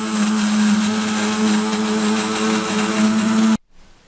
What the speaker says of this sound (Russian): Включаем блендер, не отрываю от дна, будем взбивать,